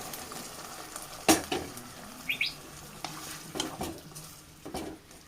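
Cooked vegetable pieces tipped into sautéed okra in a pan for Kerala-style sambar, with a sizzle, scattered knocks and stirring, a few sharp clatters standing out over the steady frying.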